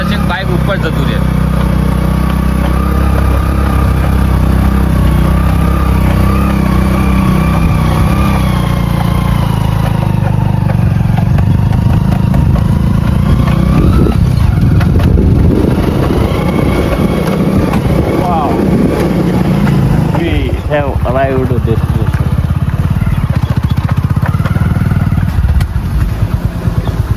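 A motorcycle climbs the hill road to Bhetheshwari Mataji temple in Gujarat, its engine droning loud and steady throughout while someone talks over it.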